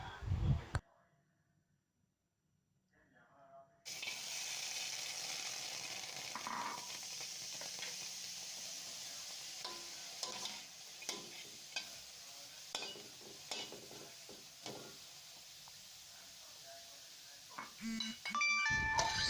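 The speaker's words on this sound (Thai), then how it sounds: "แล้วก็นำไปคั่วกับกระทะค่ะ ด้วยไฟอ่อนค่ะ" Soft, steady pan sizzle of dried shrimp dry-roasting over low heat, with scraping and stirring clicks, mostly close and moderate; a brief quiet gap early on and short spoken bits.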